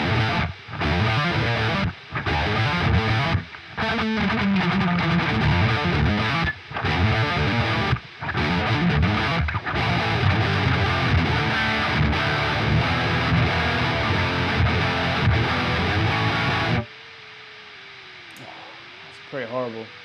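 Heavily distorted electric guitar through a Neural DSP Fortin Cali Suite amp plugin plays loud chugging riffs with abrupt gated cutoffs between phrases, then stops, leaving a faint hiss and brief feedback-like tones.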